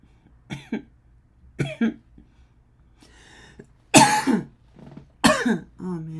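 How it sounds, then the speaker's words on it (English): A person coughing, with five separate harsh coughs and throat-clearing bursts spaced across a few seconds, close and fairly loud against a quiet room. "Oh man, coughing."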